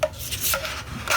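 Application tape peels back off a painted round wooden sign during stencil work, giving short close raspy rubbing strips that rise and fall over about a second.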